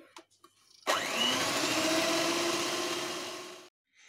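An electric mixer whips cream into chantilly for an almond cake, starting with a few soft clicks and then running as a steady, loud whir for about three seconds before cutting off.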